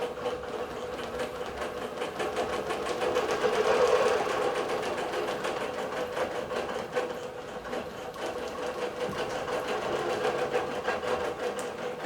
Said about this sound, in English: And here comes the machine. What it's going to do is quilt all the way across